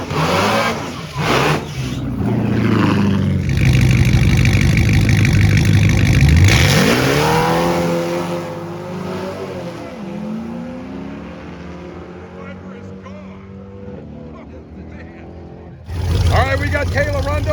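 Dodge Viper and an old-school Dodge Challenger revving loudly at the start of a drag race at Roadkill Nights, engines roaring and rising in pitch before fading into the distance, with an announcer talking over it.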